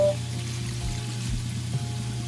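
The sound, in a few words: pouring water into pork humba pot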